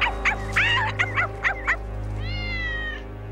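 A series of short, rising cat meows, about six in quick succession, then a longer drawn-out meow, all over a steady low hum.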